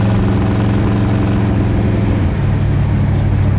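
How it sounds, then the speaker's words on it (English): A 1960 Chevrolet Impala Bubble Top idles through its exhaust with a deep, even rumble that drops slightly in pitch partway through, heard close and alone. "And that exhaust sounds so good too. It's like a crisp, classy sound."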